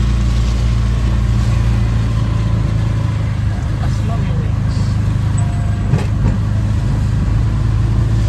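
A car engine runs steadily on a road trip to Lonavala, a constant low rumble and road hum filling the whole stretch, with faint voices of passengers talking over it.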